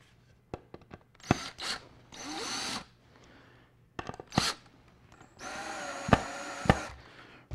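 Power drill driving screws through a panel while mounting a turkey tail and beard, heard as several short close bursts of whirring drilling separated by pauses and small handling knocks.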